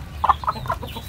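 A hen recovering from an injury gives a few soft, short clucks in a quick cluster, close by over low background noise.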